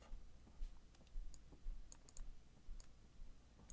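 Soft, quiet clicking of keys on a computer keyboard, scattered taps in uneven bursts over a faint background hiss.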